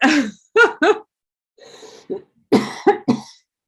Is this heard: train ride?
no